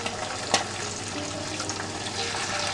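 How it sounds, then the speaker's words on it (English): Pieces of pork spleen searing in bacon fat, giving a steady, close sizzle and crackle with a faint pop near the start. "I'm just going to go ahead and drop these pieces in and sear them"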